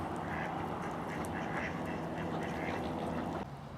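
Swans and geese calling repeatedly in a continuous noisy chorus, honks and quacks overlapping at moderate distance, with no speech.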